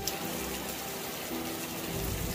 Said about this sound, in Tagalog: yung patak ng ulan sa bubong